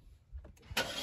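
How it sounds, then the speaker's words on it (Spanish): A car engine starts: brief faint cranking, then a sudden louder catch into a steady running roar near the end, close by. "primero es necesario antes encender el auto"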